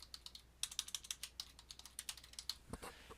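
Close, quick typing on a computer keyboard, a steady run of light clicking keystrokes in short bursts with brief pauses, no voices.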